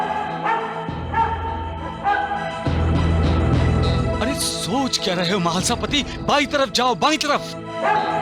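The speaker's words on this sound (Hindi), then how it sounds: "कुत्ता भौंक रहा है" A dog barks several times, sharp repeated yaps in the later half, heard under and between a man's urgent spoken lines in a dramatized outdoor scene.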